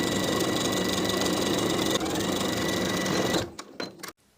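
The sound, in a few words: sewing machine top stitching a jumper hem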